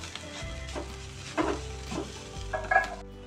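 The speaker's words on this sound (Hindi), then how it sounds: "एक बार अच्छे से सब चीजों को मिक्स कर लेंगे" Cabbage momo filling stirred and mixed in a pan with a spoon, soft scraping and stirring strokes with a light sizzle and a few sharper clinks of utensil on metal near the end.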